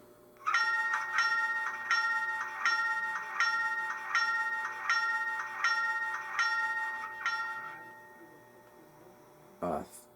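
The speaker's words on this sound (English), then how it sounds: "1 is the bell." A bell clangs repeatedly in an even rhythm, about a dozen strikes, then fades out, followed by a short thump at the end.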